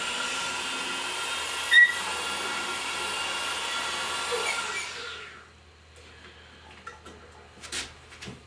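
A trued valve grinding stone makes its first passes on an Edelbrock E 200 valve, a steady high whine for about five seconds that then spins down, followed by faint small clicks and handling noises.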